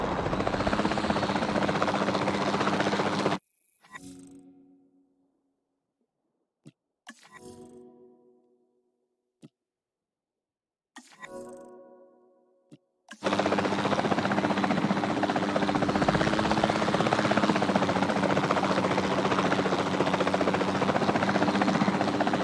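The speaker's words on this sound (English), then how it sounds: "Then the sensible thing is to take a capture team helicopter." A capture team helicopter in the video game Jurassic World Evolution 2 drones with a loud, steady rotor roar, breaks off into near-silence with a few brief mechanical clunks, then returns to a full, continuous hum.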